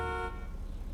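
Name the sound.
car horn of Ocelot Penetrator in video game GTA V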